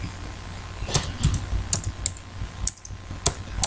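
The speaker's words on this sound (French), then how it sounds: "On appuie sur la touche Entrée du clavier pour valider la saisie." Computer keyboard keys tapped in a quiet room, a handful of separate clicks spread unevenly with a final firmer press of the Enter key, close and fairly soft.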